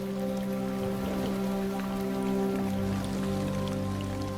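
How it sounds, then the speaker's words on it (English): Rain falls steadily across the Luangwa valley in Zambia, a dense, even patter of drops on surfaces, with faint tonal sounds running beneath it. "As the rains roll in"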